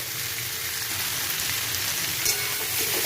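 Potato, onion, pumpkin and carrot fry in fish oil in a pan, giving a steady, close hiss and sizzle with occasional soft stirring noises.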